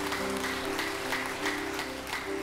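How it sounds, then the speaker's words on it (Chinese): A church congregation claps together in a steady wash of applause. The clapping carries on throughout under a sustained musical tone. "请咱将掌声来归予荣耀的上帝"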